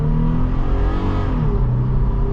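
A 2023 Toyota 4Runner TRD Off Road Premium accelerating hard from a standstill, its engine droning loudly and steadily rising in pitch, close and continuous with no talking.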